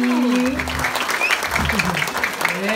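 Audience applause at a Balinese prembon dance-drama performance during a temple anniversary ceremony, a dense, steady wash of clapping lasting the whole moment, with voices and a held tone mixed in.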